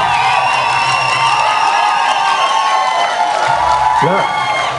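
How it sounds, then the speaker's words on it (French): Cheering and applause from an audience at a Canadian national bodybuilding contest form a steady roar of whoops and clapping. A voice cuts in briefly near the end. "on dirait que c'est pour moi les applaudissements"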